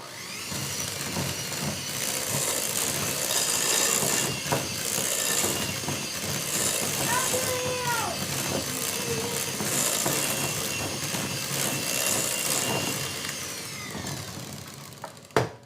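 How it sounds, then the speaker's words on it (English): An electric hand mixer whirs steadily through cupcake batter for maple bacon cupcakes, a continuous close motor drone with small shifts in pitch and a brief clack at the end. "Now, when you're using a hand mixer,"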